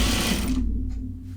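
A sewing machine running fast while stitching a half-inch seam, a close, loud mechanical whir that cuts off abruptly partway through, leaving a low hum.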